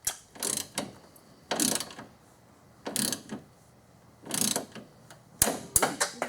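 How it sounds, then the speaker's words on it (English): A hand wrench tightens radiator bolts on a 2001 Infiniti QX4, its ratchet clicking in short close bursts separated by quiet pauses, with quicker clicks near the end. "we're going to hand tighten this with a wrench instead of a big flat socket"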